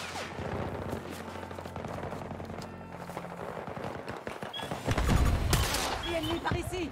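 Rorsch MK IV fire in a team deathmatch shooter: rapid shots and explosive impacts, with a heavy boom near the end, while someone talks over the action.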